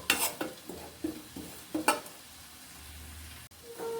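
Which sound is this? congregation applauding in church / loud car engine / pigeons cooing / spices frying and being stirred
spices frying and being stirred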